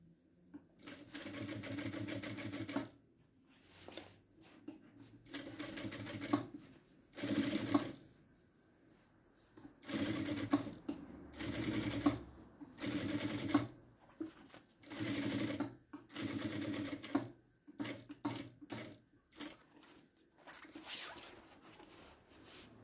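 Sewing machine stitching bias tape onto a zipper, its motor whirring in repeated bursts of rapid stitching broken by short pauses, close and steady with no talking.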